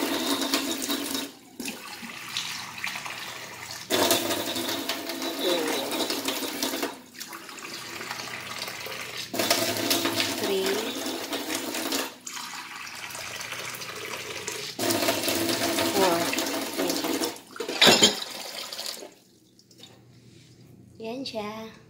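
Water runs from a tap in a kitchen in several long bursts while leche flan is being prepared, a steady hiss and splash switched on and off again, with a person talking in the gaps.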